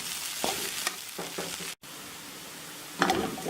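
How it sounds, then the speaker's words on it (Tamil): Potatoes frying in a pan, a constant soft sizzle with scraping stirs now and then, faint and close, plus a brief clatter of the spoon near the end. "திறந்து இந்த மாதிரி கிளறி விட்டுக்கிட்டே இருந்தீங்கன்னா நல்ல மொறுமொறுப்பாக சூப்பராக ஒன்று போல் வந்து நம்மளுக்கு உருளைக்கிழங்கு வந்து வெந்துடும்"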